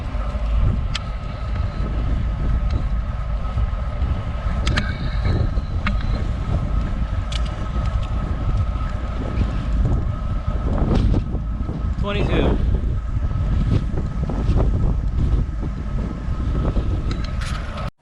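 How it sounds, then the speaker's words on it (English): Strong wind buffets the microphone while riding a Roadster V2 electric bike at about 13 mph on a very windy day, a loud, continuous low rumble and roar with gusty fluctuations throughout. "Really windy today."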